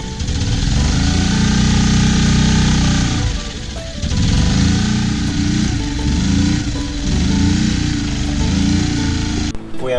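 A small outboard motor mounted in a slot at the bottom of a sailboat's transom drones loudly and close, with a steady throbbing tone that briefly dips and surges before running on to the end.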